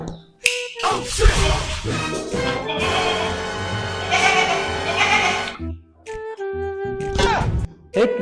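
A goat bleats loudly and close, a long wavering cry followed by shorter bleats after a brief pause.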